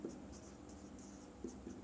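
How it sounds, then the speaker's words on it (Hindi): A teacher writes out a maths averaging formula during a railway-exam lesson, with faint close scratches and taps of the writing tool coming in short bursts, quiet and with no voice. "औसत बराबर लिखेंगे"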